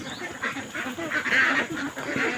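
Ducks quack loudly and close by in a steady, overlapping chorus while palay rice grains are tossed to them.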